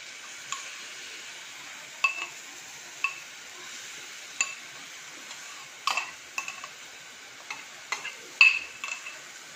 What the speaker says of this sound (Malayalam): നന്നായിട്ട് ഒന്ന് ഇളക്കി കൊടുക്കുക.